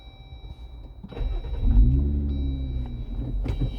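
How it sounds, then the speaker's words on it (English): A 2021 Jeep Wrangler Unlimited Rubicon's turbo 4-cylinder engine starts at the push button: a brief starter whir, then a loud catch and a rising rev that settles into a steady, close idle rumble. "I'm gonna go ahead and start it up. It is once again the turbo 4-cylinder."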